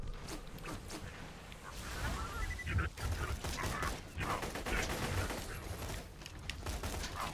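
Rapid gunfire from the Rapier rifle in Borderlands 2, a steady stream of dense, crackly shots running throughout with some mechanical clatter layered in.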